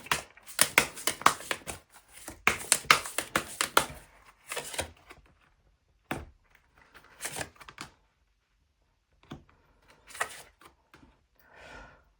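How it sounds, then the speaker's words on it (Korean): A tarot deck is shuffled and an extra card is drawn, heard as close, crisp riffling bursts of cards in quick clusters, then separated by pauses and softer slides and taps. "추가 카드 한번 더 뽑아보도록 할게요"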